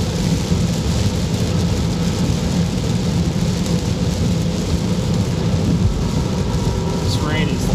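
Heavy rain drums steadily on a car during a drive toward Columbus, a dense, constant roar with low rumbling underneath, loud and close throughout.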